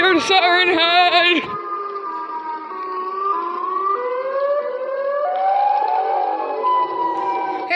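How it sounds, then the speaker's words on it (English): A Siren Head creature's siren wails outdoors in long, loud, sustained tones that slowly rise and fall, after a brief burst of voice at the start. "I hear Siren Head siren only."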